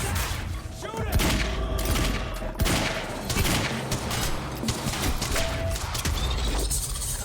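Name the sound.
gunfire in the video game Quantum Break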